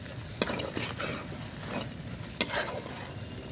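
Spices with turmeric, chilli powder and salt frying on low heat for a snakehead fish korma, stirred with a few sharp scrapes and clinks over a soft, steady sizzle.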